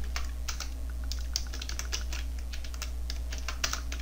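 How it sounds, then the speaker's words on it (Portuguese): Fast, steady typing on a computer keyboard, close and clear, with irregular bursts of key clicks over a low steady hum and no talk. "Eu vou digitar aqui"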